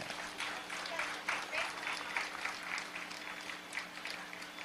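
An audience at a Tamil speech event applauds a visiting member of parliament, producing a steady, moderately distant patter of many hands over a low background hum.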